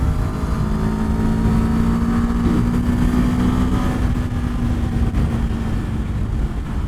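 A Kawasaki hybrid Ninja motorcycle surges ahead to pass with its electric e-boost engaged, a steady close engine drone with a rising tonal whine holding loud and continuous throughout.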